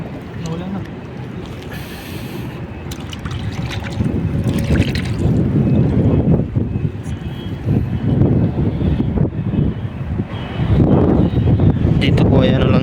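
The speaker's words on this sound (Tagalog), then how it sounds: "Medyo mahangin po kasi. Mahangin." Gusty wind buffets the microphone outdoors beside water, a rough low rumble that swells and fades in waves, with a voice speaking now and then over it.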